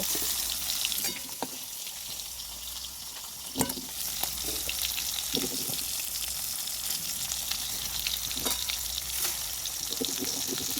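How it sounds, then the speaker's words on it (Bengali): Steady crackling sizzle of katla fish frying in hot oil in a pan, continuous and close, with occasional sharper pops and spatters. "এই যে এখানে মাছ ভাজা হচ্ছে"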